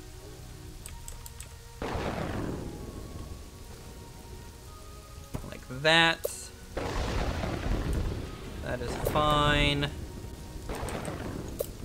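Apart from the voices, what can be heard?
pouring rain and thunder in video game Kingdoms and Castles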